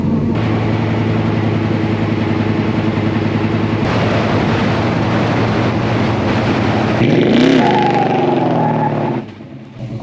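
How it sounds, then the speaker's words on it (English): A 1966 Chevy Nova with a newly installed Yukon posi differential roars through a burnout, its loud steady engine note rising as the revs climb, then easing off near the end; no talking. "Now, I did do 2 burnouts."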